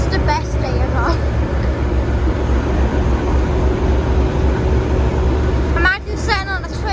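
A train rumbles at Tyndrum station with a steady low drone and a faint whine, heard up close. Birds chirp briefly near the start and end.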